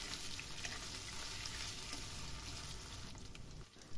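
Diced potatoes frying and being stirred in a pan of hot oil, giving a continuous, close, dense sizzle with small spatters, which fades near the end.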